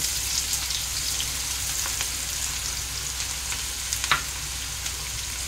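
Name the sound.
onion and garlic frying in oil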